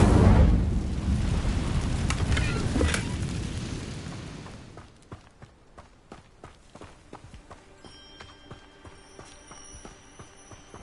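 A burst of fire erupts from an Incendio spell in Hogwarts Legacy, a loud roaring whoosh for several seconds that fades into quieter tapping footsteps and faint ambient tones.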